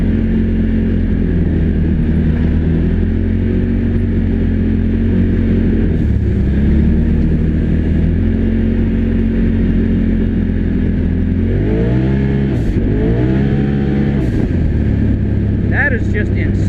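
A 2021 Polaris RZR XP Pro Turbo Premium side-by-side revs hard, its turbo engine droning loud and close and climbing in pitch in repeated surges, with a voice talking over it at times.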